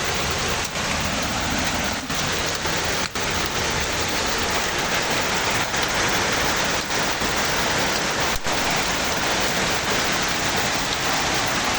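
Hail pours down steadily in Milan, a dense continuous hiss with faint scattered impacts, loud and unbroken throughout with no voices.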